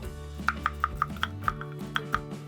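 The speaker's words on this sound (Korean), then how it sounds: "이렇게 양파는 약간 두툼하게 썰어야 됩니다." A knife slices half an onion into thick pieces with about eight evenly spaced, crisp chops that land close and clear over a quiet kitchen background.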